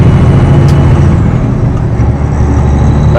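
A Peterbilt 359 truck driving in Northern Ontario, a loud, steady engine and road roar from close by, broad and unbroken, with a brief faint hiss near the start.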